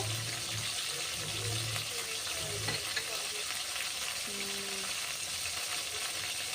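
A spice paste of ginger, green chili, turmeric, chili powder and salt sizzles steadily in hot oil for a fish curry, with a constant frying hiss, occasional stirring, and faint talk in the background.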